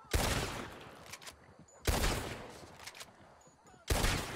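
Three loud, sharp gunshots spaced about two seconds apart in a multiplayer video game, each with a ringing decay, with faint game background between them.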